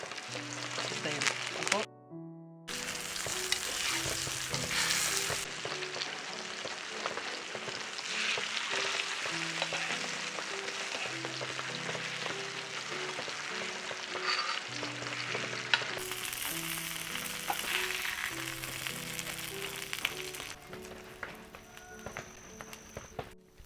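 Steady sizzling of fish frying in oil on a dosa griddle, continuous and close, with soft clatter of utensils and music playing in the background.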